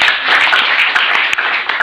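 A church congregation at a thanksgiving service claps for Jesus, a loud, close, dense patter of many hands with a few sharper claps standing out, and no talking.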